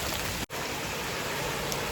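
April's first rain pours down in a steady, dense hiss of drops, loud and close, broken only by a split-second dropout before the downpour continues unchanged.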